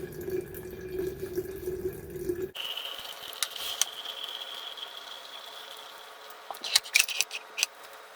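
Kombucha is poured from a container into two bottles, a steady liquid stream that shifts pitch partway through, then brief glassy clinks and drips near the end, close and with no talking.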